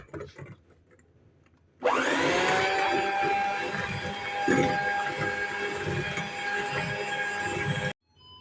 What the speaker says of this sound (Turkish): Mikserimle karıştırmaya devam edeceğim.